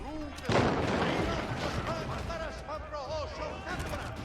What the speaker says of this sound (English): We got the cannons rolling out.